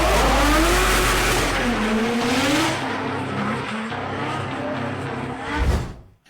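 A Toyota Supra race car fitted with a 7-liter supercharged V8 making 1,000 horsepower roars past loudly, engine note rising and falling through shifts, with tire squeal and a fading pass at the end.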